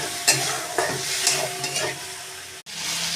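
Masala spice paste fries and is stirred in a pan, a continuous close sizzle with repeated scraping strokes of a spoon and a brief sharp drop near the end, no one talking.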